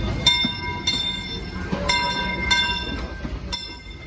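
Disneyland railroad train during the Christmas season, with a steady rumble of rolling cars and repeated clanking rail joints, plus a sustained ringing bell tone over the passing train.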